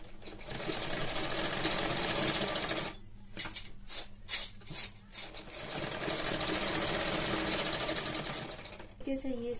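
A sewing machine stitches a blouse in long steady runs, broken midway by a few short stop-start bursts, with someone speaking Hindi over the hum.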